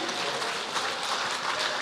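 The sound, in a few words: congregation applause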